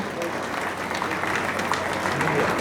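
Dense, steady audience applause fills a women's day celebration held by a women and child welfare department in Jagtial, staying loud and unbroken throughout with no voice over it.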